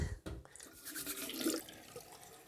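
A faucet runs into a sink while a man wets his face before shaving. The splashing is soft and close and rises and falls briefly as water hits skin and hands, with no talking.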